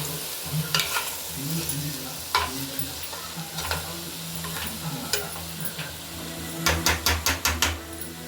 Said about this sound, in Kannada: ಈ ಮಸಾಲೆ ಎಲ್ಲ ಹಾಕ್ಕೊಂಡು ಇದ್ರ ಜೊತೆ ಕಲಿಸ್ಕೋಬೇಕು.